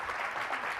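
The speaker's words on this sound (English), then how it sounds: "please give a round of applause for Joel" Brief burst of audience applause at a TrustCon 2024 conference session, a steady dense wash of clapping throughout with no voices.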